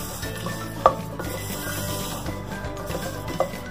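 Cumin, coriander and peanuts fry in oil for Hyderabadi bagare baingan, giving a steady close sizzle with stirring and scraping, plus two brief metallic clinks of a spoon against the pan and no talking.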